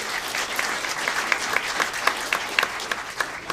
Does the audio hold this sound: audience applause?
yes